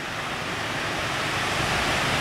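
Ocean surf rushes steadily onto a beach as the high tide comes in, a broad continuous wash of breaking water that swells slightly louder, with no voices.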